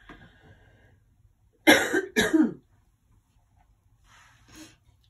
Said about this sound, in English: I'm just going to have to clear my throat.